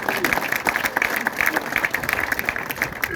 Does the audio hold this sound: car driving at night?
no